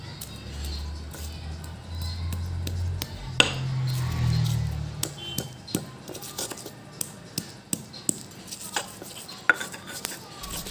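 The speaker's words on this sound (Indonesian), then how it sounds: "Jadi aku menggunakan cobek saja, secara manual dihaluskan." Repeated sharp knocks and scraping of stone on stone as spices are ground by hand in a stone mortar (cobek), pounding at an irregular rhythm, close by, with clinks between strokes.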